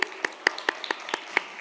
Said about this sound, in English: So if we could please have a loud round of applause for Ms.